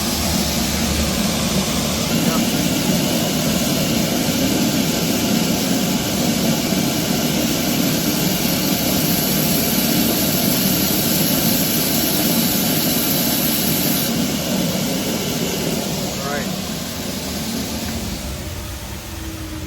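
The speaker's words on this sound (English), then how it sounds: "now that we've sanded that angle into the bottom side of this headstock veneer" A Powermatic oscillating edge sander, run at its lowest belt speed, grinds an angle into a guitar headstock veneer with a loud, continuous roar that holds steady throughout and eases slightly toward the end.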